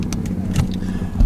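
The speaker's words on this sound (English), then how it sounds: "cars and motorbikes all around" Idling engines of cars and motorbikes rumble close by in a queue at a historic motor gathering in Saltburn, a dense steady drone with small mechanical clicks and a louder swell at the end.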